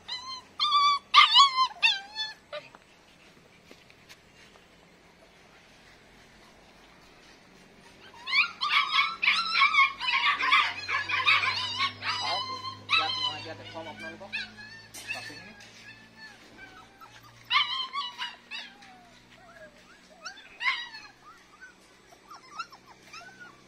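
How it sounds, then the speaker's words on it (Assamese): A guard dog puppy whimpers and lets out high, wavering howls in three separate bursts, close by, with quiet gaps between them and a faint low hum underneath. "আপোনাৰ এটা গাৰ্ড ডগ"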